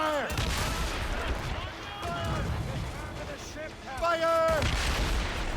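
Ship cannons fire at a gunboat during an Assassin's Creed Rogue naval battle, with several booming shots at the start and near the end amid crashing water, under shouted voices.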